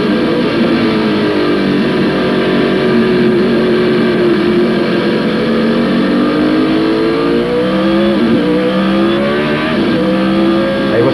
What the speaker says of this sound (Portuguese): Vamos lá, vamos ouvir o som do Honda